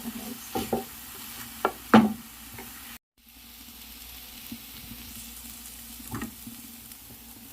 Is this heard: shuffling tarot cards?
no